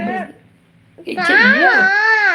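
A young child cries and whimpers for a mobile phone, close and loud, with a short sob, a brief pause, then a long rising wail.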